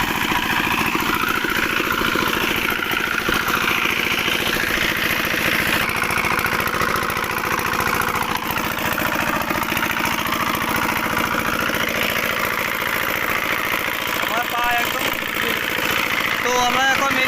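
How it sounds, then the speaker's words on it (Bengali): A diesel-type engine drives a field irrigation water pump watering low-lying wetland paddy plots, chugging steadily and loudly at a close distance throughout, with a person speaking over the constant drone. "আমরা এটা বন্ধ করে ফেলবো মেশিনটা।"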